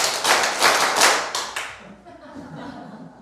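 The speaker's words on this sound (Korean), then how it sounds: "박수 5번 짝짝 짝짝짝 시작" Church congregation clapping hands in a rhythmic pattern, a crisp burst of loud claps in quick groups that breaks off, leaving a quiet room with faint voices.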